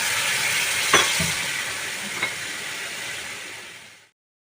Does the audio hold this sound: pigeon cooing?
no